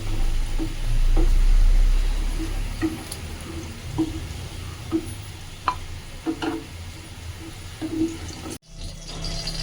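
Potatoes frying in hot oil on a lowered gas flame for a Bengali boal fish curry, sizzling steadily up close while pieces are lifted out with soft scrapes and taps of a spatula, and a brief silent gap near the end.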